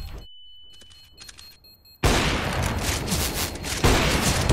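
Gunfire in GTA 5: after a quieter stretch of scattered game sounds, a loud burst of rapid, dense shots and booms breaks in and carries on to the end.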